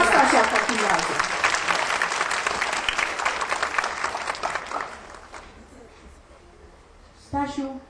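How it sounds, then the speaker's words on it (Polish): Applause from an audience at a youth award event honoring a boy's work, a dense burst of clapping that fades out after about five seconds, followed by a brief voice speaking. "No to brawa dla Stasia w takim razie"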